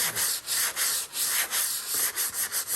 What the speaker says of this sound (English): We're gonna go to this kind. It's a sanding block.